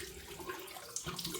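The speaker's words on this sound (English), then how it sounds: "Rinse my face with cold water now." Cold tap water runs steadily into a bathroom sink during a wet shave routine, a close continuous splashing hiss with a brief louder splash near the end.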